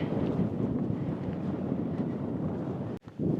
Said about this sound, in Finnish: Ihana tää tuuli.